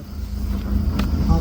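Jungle safari vehicle engine idling in Pilibhit Tiger Reserve, a steady low rumble with wind buffeting the microphone and people talking nearby.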